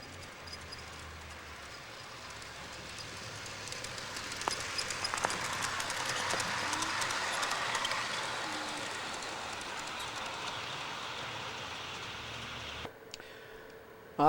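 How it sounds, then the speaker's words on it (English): A six-car Super Chief model train rolls along an outdoor track nearby with a soft rumble that builds and slowly fades, followed by a brief clatter at the end. "I think I hear a train coming."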